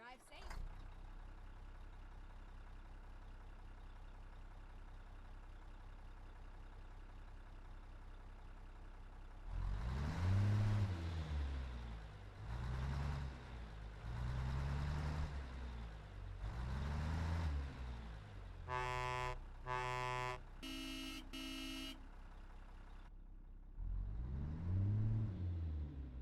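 A Mack R truck engine with a Zeemods sound set in American Truck Simulator, fitted with stacked pipes: a low idle rumbles before repeated throaty revs rise and fall, with air brake hisses and short reversing beeps between them.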